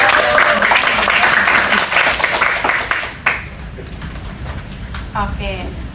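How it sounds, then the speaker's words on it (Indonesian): An audience applauds at the end of a seminar, dense loud clapping that fades after about three seconds into scattered claps and a voice. "Mari kita berikan tepuk tangan untuk"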